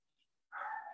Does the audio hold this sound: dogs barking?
yes